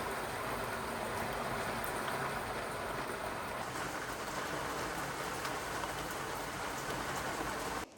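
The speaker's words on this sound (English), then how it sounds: "I'm going to wait out this absolute downpour" A heavy rain downpour pours down steadily, a dense, loud, unbroken hiss of drops drumming on surfaces that continues without pause until it cuts off abruptly at the very end.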